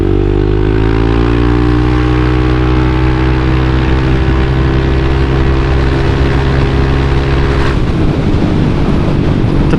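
A Yamaha Aerox 155 VVA scooter engine drones loudly during a test ride, its pitch climbing steadily under acceleration before dropping briefly near the end, with heavy wind rush throughout.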